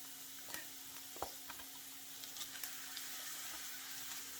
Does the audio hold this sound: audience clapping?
no